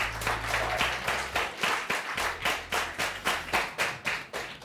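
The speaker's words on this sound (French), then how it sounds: "Des applaudissements pour le maestro." At a summer singing contest final, an audience claps in steady rhythmic unison for the keyboard player, each beat sharp and even over a low musical hum.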